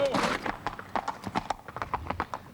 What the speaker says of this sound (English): you could also injure your horse's legs by running on the pavement